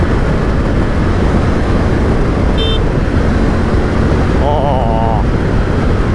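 Triumph Tiger 900 Rally Pro motorcycle engine under hard acceleration while overtaking on the road, a loud steady roar mixed with heavy wind rush throughout.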